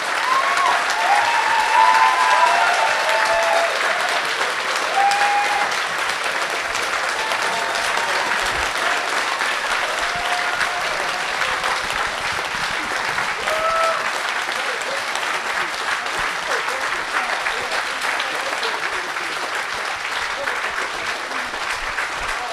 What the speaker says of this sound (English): A round of applause for the speakers.